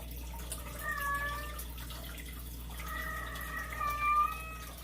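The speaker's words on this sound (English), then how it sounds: "You can probably hear my cat." A female house cat meows in drawn-out, wavering calls, one short cry followed by a longer, rising yowl, moderately close over a steady low hum and faint running water, with no talking.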